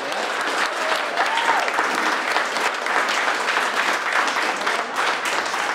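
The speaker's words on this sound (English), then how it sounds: "So let's have a little round of applause for that." Graduation audience at Brentwood Academy in Nashua, New Hampshire, applauds the school's first official diploma: a steady, full wash of clapping from a large crowd, sustained throughout at even volume.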